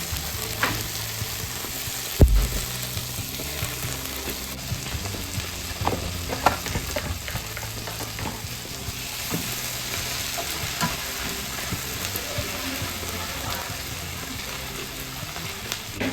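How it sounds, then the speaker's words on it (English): Food frying in a pan while Jamaican dishes are cooked with Taiwanese ingredients, a continuous crackling sizzle up close with scattered pops and a sharp clank early on. "let those fry for a little bit"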